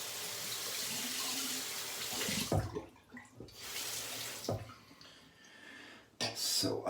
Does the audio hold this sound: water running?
yes